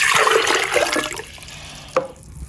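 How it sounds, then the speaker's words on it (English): Water pours into a blender jug for making akamu (ogi) from popcorn, a close splashing gush that is loudest at the start, then thins to a softer trickle, with a brief knock near the end. "I'll just put water,"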